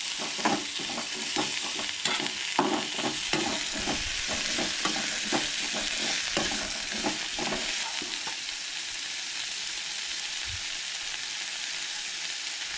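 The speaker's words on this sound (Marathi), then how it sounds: "आनी एरीचो आवाज आयकोंक येतलो. सो हे बरें तळसून घेवंक जाय. बरें भाजून घेवंक जाय." Masala fries and sizzles in a pan for a Goan egg curry with coconut, a steady close hiss broken by rhythmic scraping stirs for the first half before settling into an even sizzle.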